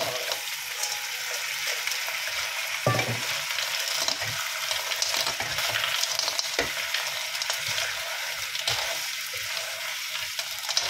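A head of garlic frying in a pan for a seafood boil, a steady close sizzle with occasional stirring scrapes and bursts, mid-level and continuous.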